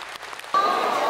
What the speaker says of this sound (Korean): 수상자들은 신자들로부터 축하 박수를 받았습니다